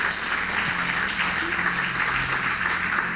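A church congregation applauds and acclaims the Lord in a brief, steady burst of clapping and cheering that fills the room.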